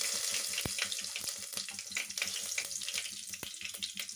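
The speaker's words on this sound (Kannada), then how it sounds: "ಈಗ ಮೆಂತ್ಯ ಮತ್ತು ಜೀರಿಗೆ ನಾನು ಹಾಕ್ಕೊಳ್ತೀನಿ." Fenugreek and cumin seeds crackle and sizzle in hot oil for a sambar tempering, with soft irregular pops and a couple of sharp clicks over a continuous frying hiss.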